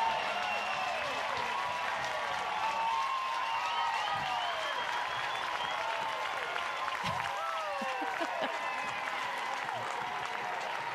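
A softball stadium crowd at a college game between Oregon and Stanford cheers and roars steadily and loudly throughout, with a dense wash of voices and some whistles carrying over the noise.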